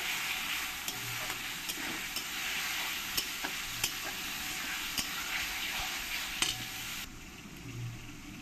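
Masala with Kashmiri chili powder and salt being stirred in a frying pan for chicken dopeaza, a steady close sizzle broken by regular scraping strokes of a spoon, quieter at the end.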